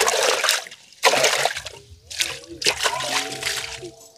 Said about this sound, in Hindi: अब चलते हैं यहीं पर हम लोग पानी उछलते हैं डेग में।